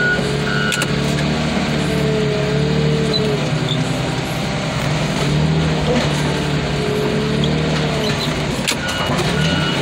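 A car being maneuvered around at a crushing yard, a loud close engine rumble with tonal whine and mechanical clanks, steady over the whole stretch.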